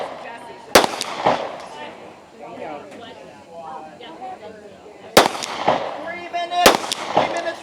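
Pistol shots ring out on a women's tactical shooting competition stage at an Ohio regional match: three sharp, loud cracks, one alone and then two close together a few seconds later, with voices murmuring in between.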